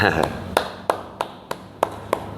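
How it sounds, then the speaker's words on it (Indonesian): A few people clap for Pak Ajat, a PAN Sumedang party chairman, in sharp separate claps spaced at a steady slow rhythm, about seven in all, in a quiet room with a voice at the start. "tepuk tangan buat Pak Ajat"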